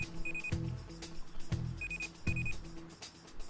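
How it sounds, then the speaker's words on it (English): Pager alarm in the video game Rust, set off by a sensor through a broadcaster: a series of short electronic beeps paired with sharp clicks, repeating in an uneven pattern at moderate volume. "here's what the pager sounds like"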